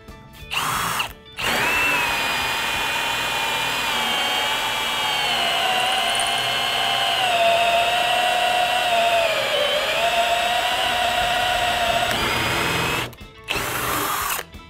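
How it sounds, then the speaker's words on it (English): A hole saw on a power drill bores through a wooden 2x4 in one long, steady, loud whine lasting over ten seconds, with the pitch dipping briefly under load, bracketed by short bursts at the start and end. "it's meant to cut holes in wood or PVC or metal or a variety of other materials, and we're going to give you a test here on this 2x4"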